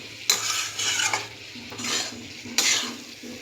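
Soyabeans being stirred in a pan, with several scraping sweeps of a utensil against the metal over a faint sizzle, close and clear with no talk.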